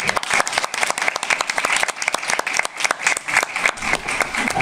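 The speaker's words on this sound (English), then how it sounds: "Another round of applause for Zachariah." An audience at a local short film showcase claps for a filmmaker, a moderately sized crowd whose individual hand claps stand out as sharp, close, rapid strikes in a lively, sustained round.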